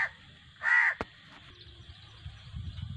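Crows caw in a village setting: a short caw, then a louder drawn-out caw, a sharp click, then a low rumble of background noise, heard close and clear without talk.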